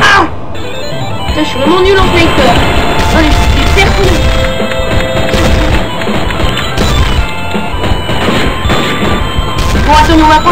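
Sniper rifle shots and explosions in the Strike Force Heroes game, loud dense booms and crashes with layered game effects and music, a voice talking over the gameplay throughout.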